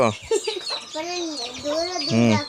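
One-month-old native country chicken chicks cheep and peep close by in quick high chirps, mixed with a person speaking.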